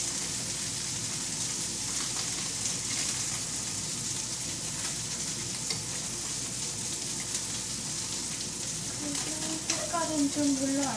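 Hairtail fish pieces frying in hot oil give a steady, dense crackling sizzle throughout, close and continuous, with a few brief higher tones near the end.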